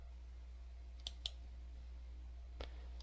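A few soft, isolated mouse clicks on a chart icon in Google Sheets, three quick close taps over a steady low electrical hum.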